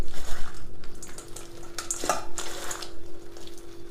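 Pieces of bitter gourd pickle being mixed with chili powder and salt, a continuous close scraping and stirring with soft rhythmic pulses and one brief metallic clink partway through.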